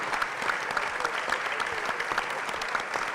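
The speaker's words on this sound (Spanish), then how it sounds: "yo les pido un aplauso a los compañeros que están encarando este proyecto" An audience at a book fair presentation applauds, a steady, dense patter of many hands clapping with a few sharper claps standing out.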